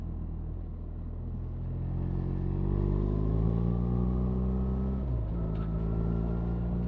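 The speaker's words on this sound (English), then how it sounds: "You feel the thump of the engine when you accelerate." A 1.3-litre BMW R1300RS motorcycle engine pulls up through the revs, its low thumping note climbing steadily and then dipping briefly before rising again, heard close over wind rush.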